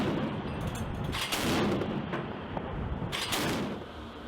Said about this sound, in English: it consists of an M242 Bushmaster chain gun mounted on a turret that can be operated manually or remotely